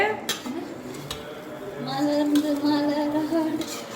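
A metal pot lid clinks and scrapes against the rim as it is lifted off cooked millet biryani, followed by soft rattling of cookware nearby.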